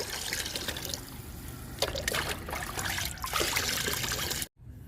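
Liquid fertilizer made from kitchen waste such as carrot, beetroot and almonds trickles and splashes steadily onto garden plants nearby, then stops abruptly near the end.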